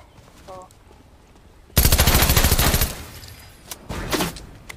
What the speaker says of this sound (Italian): C'è gente qua che spara. Sono io che sparo